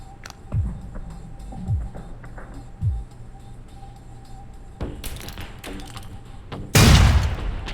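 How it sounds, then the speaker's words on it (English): In the Alpha Protocol video game, explosives thrown under a truck blow its gas tank: several dull thumps and crackling bursts build to a loud, sharp blast near the end, followed by rumbling debris. "Try and chuck one beneath the truck and take out the gas tank."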